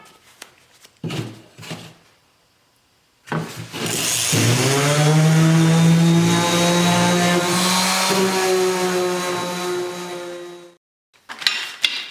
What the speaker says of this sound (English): I'll just continue on sanding those down.